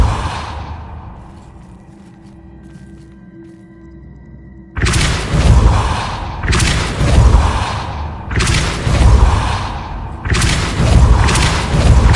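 Spell impacts from the Depulso force-push spell in Hogwarts Legacy gameplay: after a quiet stretch, three heavy booming blasts with thuddy low rumble land in quick succession, loud and close, with no talk.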